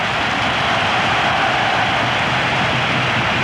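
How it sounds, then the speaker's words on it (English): Dense, steady roar of a large football stadium crowd at a Spain v Scotland match, a continuous loud wash of massed voices with no breaks, like the noise of a bull ring. "Sounds of the bull ring now from a crowd."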